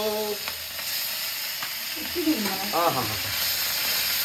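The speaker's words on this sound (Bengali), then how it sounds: "মাছ কিন্তু চলে গেল বাবা রে তেল ছিটকাচ্ছে" Small kachki fish fry in hot oil, with a continuous close sizzle and spattering crackles while voices talk over it.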